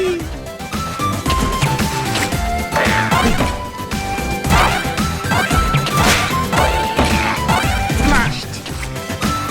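Smashing crashes and thwacks from DuckTales Remastered gameplay, repeated hits over busy game music with bright tonal jingles, fairly loud throughout, with game voices chattering.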